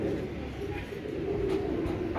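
Heera Laal pigeons coo in a low, steady murmur, with soft overlapping calls blending into a continuous near hum and no talk.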